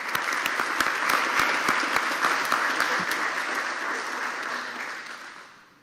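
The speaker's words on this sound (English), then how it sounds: "join me in giving them one more round of applause" An audience at a university board of trustees meeting applauds steadily for several seconds, the clapping dense and sustained before fading out at the end.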